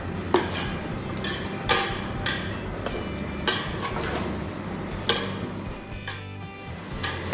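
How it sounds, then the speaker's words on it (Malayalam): Vegetables for a vegetable kurma are stirred in a cooking pot, with a spoon clinking against the metal in irregular, fairly close taps over a low kitchen background. "വെജിറ്റബിൾസ് എല്ലാം നന്നായിട്ട് ഓരോന്നിട്ട് നമുക്ക് ഇളക്കി കൊടുക്കാം"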